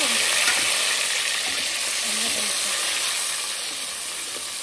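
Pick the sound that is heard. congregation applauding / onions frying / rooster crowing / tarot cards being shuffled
onions frying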